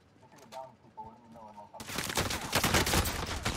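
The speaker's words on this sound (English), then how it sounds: "There's people at headquarters shooting at us, man." Gunfire in Call of Duty: Modern Warfare breaks out partway through as loud, dense automatic bursts, with voices heard before and under the shooting.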